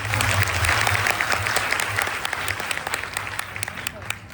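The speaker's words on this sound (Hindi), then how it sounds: "एक बार जोरदार तालियों से इनका उत्साह बढ़ाएं।" An audience at a children's drama showcase in Bihar Sharif claps for the young performers, loud at first and easing off gradually, with voices mixed faintly into the continuous applause.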